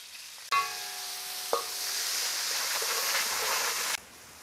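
A large onion hits hot oil in a pan with a sudden loud sizzle, then stirring and a continuous close frying hiss that stops abruptly near the end.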